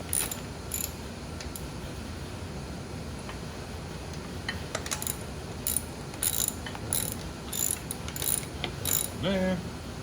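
Ratcheting clicks from a wrench tightening bolts on a Harley-Davidson Sportster motorcycle, coming in quick bursts of clicks with short pauses between them. The sound is close and moderately loud over a steady background hiss.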